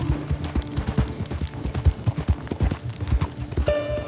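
Horse hooves clip-clopping in the Red Dead Redemption 2 video game, a black horse walking with a steady irregular rhythm of close, loud hoof strikes, with game ambience and a brief tonal chime near the end.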